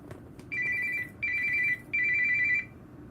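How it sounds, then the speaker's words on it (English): A phone ringtone rings loudly in three steady electronic bursts with short gaps between them, alone over a faint background hum. "Oh, my phone is ringing."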